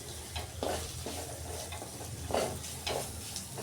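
Vegetables with turmeric fry and get stirred in a pan for a sabji, a constant close sizzle broken by several louder scraping sweeps of the spoon.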